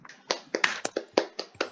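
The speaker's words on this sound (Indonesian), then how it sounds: "Tepuk tangan untuk Siti." A small class gives a brief round of applause for a student, about eight sparse, distinct claps in a quick, slightly uneven rhythm, close and fairly soft.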